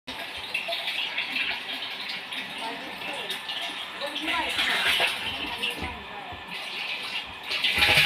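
Water pumped by a household electric water motor fills a tank at night, a steady broadband rush of flowing water with occasional clinks and faint background voices, swelling louder near the end.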